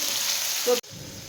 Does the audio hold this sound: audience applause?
no